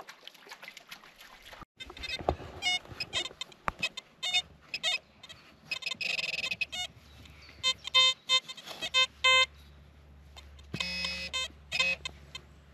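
Electronic tones from a metal detector chirp and warble in irregular bursts, some sharp and high-pitched, over faint outdoor rustling and handling noise, while searching at a lake in Masuria, Poland.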